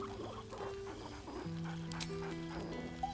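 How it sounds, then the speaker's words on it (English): A dog in a video game barks merrily, short yelps and whimpery barks over soft background music, fairly quiet and close. "barks merrily in something like agreement"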